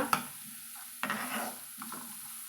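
Grated beetroot sautéing in oil in a pan, a soft sizzle under a few distinct scraping stirs of a spoon, close and fairly quiet, with no talk.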